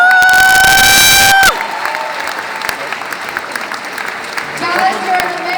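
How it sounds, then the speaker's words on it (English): Crowd applauding and cheering for Charlie Sheen at a convention panel, clapping and scattered shouts after a loud tonal burst at the start, with voices heard over the ovation. "one more time, a round of applause for Mr."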